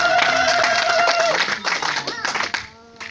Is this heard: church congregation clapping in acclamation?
yes